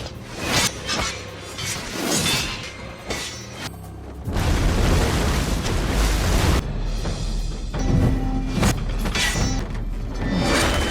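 An explosive ball detonates in a Korean historical action film: a sudden heavy boom bursts out midway and rolls into sustained crashing, whooshing debris, following sharp clanks and impacts.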